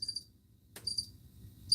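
Crickets chirp in short high bursts at the start and end of a quiet stretch, with a brief click between and a faint low rumble underneath.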